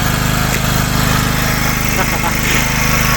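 A portable generator converted to run on gas drones steadily nearby, a loud, even engine hum with a buzzing tone that holds throughout.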